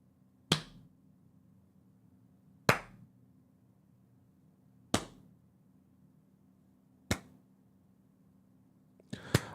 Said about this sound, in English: This is a slow clap.